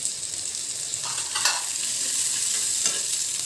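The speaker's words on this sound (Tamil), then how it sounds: "இப்போ இது எல்லாமே சேர்ந்து நல்லா வதங்கிடுச்சு" Onion, garlic and rock salt sizzle steadily in a hot pan for tomato garlic chutney, a continuous close frying hiss with occasional stirring scrapes and no talk.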